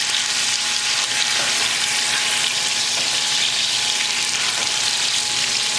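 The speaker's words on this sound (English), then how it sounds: "Give a good stir." Pork chops frying in a pan with the heat turned up, giving a loud, dense, unbroken sizzle heard up close, with no voices.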